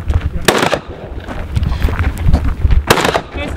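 Pistol fire at a shooting range on a Middle Eastern army base, with two sharp, loud shots a few seconds apart over steady outdoor rumble and some background talk.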